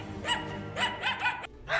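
Two trained pet dogs give several sharp barks in quick bursts, close and loud, with short pauses between barks, set outdoors where coyotes are met.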